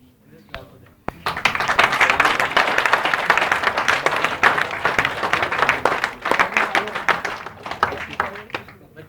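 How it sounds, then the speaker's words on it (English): Audience clapping at a corporate pride training session bursts in after a sharp start and swells into dense, loud applause, then breaks into more scattered claps near the end, with voices mixed in. "This clap for them"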